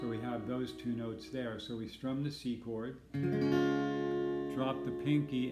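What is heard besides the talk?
No everyday noise stands out behind the speech.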